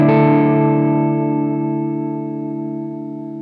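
A sustained electric guitar chord through a TC Electronic Shaker Vibrato pedal at its slowest speed rings out with a slow, gentle pitch warble, decaying gradually over a few seconds with no talking.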